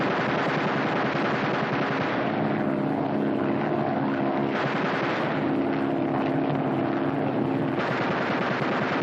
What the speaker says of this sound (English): Fire 3 bursts each in rotation.